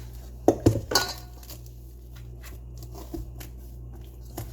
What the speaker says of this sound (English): Just give it a couple more stirs with the hand.